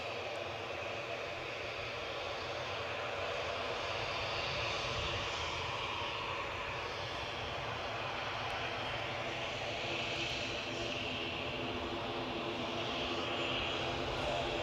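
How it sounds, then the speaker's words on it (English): EasyJet Airbus A320neo from Belfast on final approach at Newcastle airport, a steady distant jet roar and hiss, faint and continuous. "So we've got somebody else on finals now. EasyJet from Belfast, an A320 Neo."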